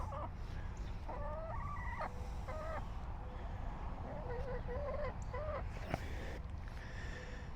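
Chickens cluck nearby in short, repeated chirping calls over a constant low hum, pecking at frozen berries and thawing watermelon, the soft clucks recurring in small bursts with a brief tap near the end.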